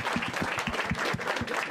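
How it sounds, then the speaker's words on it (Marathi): An audience at a stand-up comedy show applauding for Rane, brisk rhythmic clapping from a modest crowd, fairly quiet and steady over the short stretch with no voices over it. "एकदा टाळ्या वाजवा राणेसाठी"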